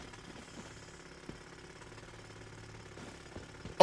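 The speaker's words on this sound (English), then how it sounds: "Oh, it's my drill?" A drill weapon in the video game Tainted Grail: The Fall of Avalon runs steadily, a low mechanical rumble with faint rattling pulses and a sharper knock near the end.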